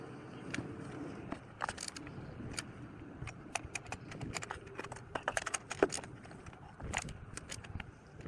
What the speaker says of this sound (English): We're just going to nip it up with the ratchet before we torque it down.